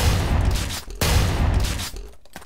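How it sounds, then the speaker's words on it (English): Grenade blasts in the blocky shooter Ace of Spades, two loud, sharp explosive bursts about a second apart, each decaying into a low rumble, close and harsh. "now I get hit in the face with a grenade"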